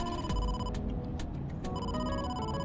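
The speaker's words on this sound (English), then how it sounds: "Okay, let me answer this phone real quick." A phone rings in Ai: The Somnium Files, a steady electronic ringtone repeating in close, even bursts over a low background hum.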